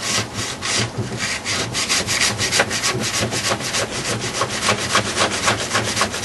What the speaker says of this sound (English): Start getting all that wax scraped off of there.